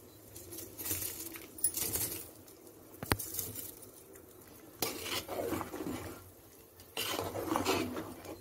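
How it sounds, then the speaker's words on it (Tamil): Soaked seeraga samba rice poured into a pot of boiling water for country chicken biryani gives a rushing, pattering hiss in several bursts, with metal clinks and stirring scrapes between them. "சீரக சம்பா அரிசி போட்டுக்கிறேன்."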